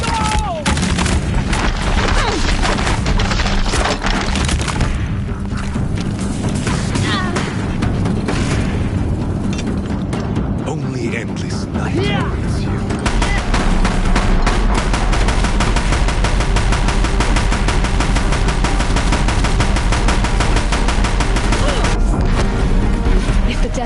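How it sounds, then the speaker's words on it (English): Deathbringer war machines in Horizon firing their guns in sustained, loud bursts of rapid gunfire and booms that continue throughout, with a dense battle soundscape and some voice mixed in. "Deathbringers keep firing, this bridge will go!"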